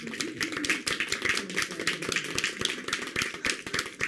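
Audience at a seminar clapping together, a dense, steady patter of many hands at moderate loudness that carries on for several seconds without a break.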